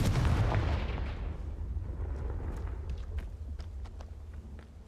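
A Confringo fire spell explodes in the video game Hogwarts Legacy: one loud, booming blast that rumbles and fades over several seconds, followed by scattered small crackles and ticks.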